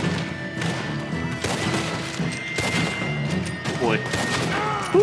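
Gunfire in Red Dead Redemption during a firefight at a penitentiary, with repeated sharp shots and thuds over a busy game soundscape while someone talks.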